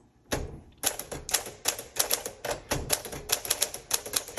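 A 1956 Smith Corona Sterling manual typewriter being typed on: after a short pause, a fast, uneven run of sharp, close key strikes keeps going to the end, with no talking.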